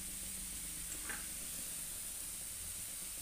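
Low, steady sizzling of chili powder frying in hot oil for a beetroot pickle, a soft continuous hiss with faint stirring underneath and no talking.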